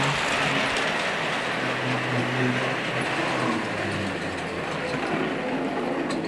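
A Tri-ang model Canadian switcher locomotive runs on a layout, giving a steady, continuous whirring rumble of motor and wheels on track at a constant level throughout.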